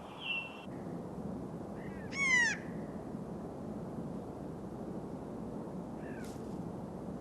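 Wild birds call at Mount Rainier: a loud rising whistled call near two seconds and a fainter short call near six seconds stand out against steady outdoor background noise.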